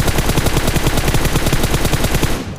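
Loud, rapid automatic gunfire in PUBG Mobile, an unbroken, evenly spaced burst of shots that fills the whole moment and fades slightly at the very end.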